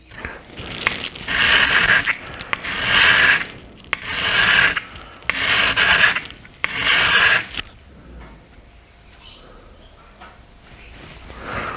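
A chisel rubbed on a 400 grit diamond honing plate in five loud, rhythmic rasping strokes, each about a second long, followed by quieter faint scraping.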